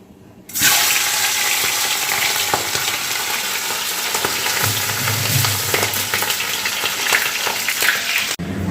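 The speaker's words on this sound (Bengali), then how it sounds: "মাছের মাথাটা আগে ভেজে নিই, তেল হয়ে গেছে।" A fish head drops into hot oil and sets off a loud, sudden, continuous hissing sizzle that stays strong and bright throughout, close up, with no talk.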